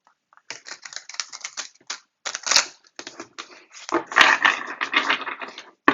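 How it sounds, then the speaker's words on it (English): A deck of tarot cards is shuffled close up in quick, crisp bursts of riffling and snapping, with short pauses between runs and no talking. "And I'm going to do one more shuffle."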